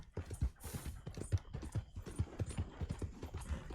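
Horse hooves clip-clop at a steady walking pace in the Red Dead Redemption 2 video game, a run of close, distinct thuds with no talking.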